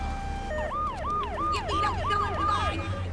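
An ambulance siren in Grand Theft Auto 3 wails in a rapid rising-and-falling cycle over a low engine rumble, synthetic and steady, with no voices.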